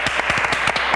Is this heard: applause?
yes